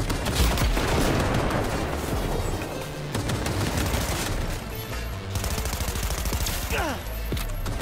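Rapid gunfire from a firearm in Cyberpunk 2077, loud bursts of close shots in quick succession with sharp cracks, fading into scattered single shots near the end.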